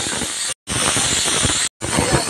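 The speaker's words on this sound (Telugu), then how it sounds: "మనం ఒక 4-5 విజిల్స్ వచ్చేదాకా ఉడికించేసుకుందాం." A pressure cooker cooking masoor and moong dal gives off a loud, steady hissing whistle of escaping steam, broken by two short gaps of silence.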